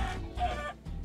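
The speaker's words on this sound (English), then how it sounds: "This chicken is immortal." A Minecraft chicken gives a quick run of close, clear clucks, loud and alone.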